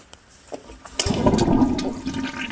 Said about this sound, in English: at least flush your toilet